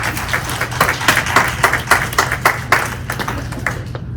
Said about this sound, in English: So I think he deserves a round of applause just for the cookie baking effort.